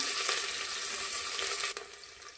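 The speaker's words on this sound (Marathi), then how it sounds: "कांदा चांगला फ्राय करून घेऊया।" Chopped onion frying in a pan over cumin and mustard seeds, a bright continuous sizzle close by, with a brief clink late and the hiss easing slightly after.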